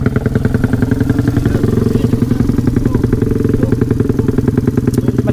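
Yamaha Sniper 150 motorcycle arriving first at an endurance race in Bicol, its engine loud and close with a rapid, steady pulsing thrum and mechanical clatter, running without a break.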